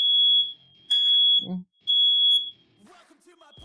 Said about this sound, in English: I think my fire alarm just went off.